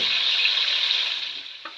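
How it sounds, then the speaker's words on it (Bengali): Spices with turmeric fry in a pan with salt, a bright steady sizzle close by that fades slightly before a brief stir near the end. "এটা একটু ভাজা ভাজা হবে"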